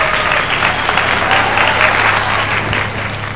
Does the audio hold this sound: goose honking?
no